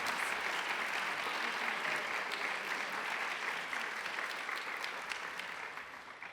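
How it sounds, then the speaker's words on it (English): An audience at a college reunion event applauds steadily, sustained dense clapping that tapers slightly toward the end. "So please join me in a round of applause."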